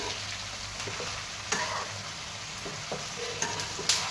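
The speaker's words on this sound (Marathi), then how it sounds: "तर आता ह्यामध्ये ही चिरलेली भाजी आणि थोडीशी डाळ टाकूया. आणि आता ही परतून घेऊया पहिल्यांदा." Chopped fenugreek greens and dal stir-fried in oil, a dense steady sizzle close by, punctuated by several sharp spatula clicks and scrapes against the pan.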